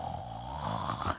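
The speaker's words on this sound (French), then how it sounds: "dans un énorme ronflement grave" A loud, deep, rumbling snore of an old woman drawn out in one long steady breath, close and resonant, ending abruptly.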